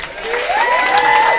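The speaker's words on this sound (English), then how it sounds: "are you applauding him or applauding me off?" Wedding guests applauding during the speeches, a brief burst of clapping with rising whistles and whoops cutting through.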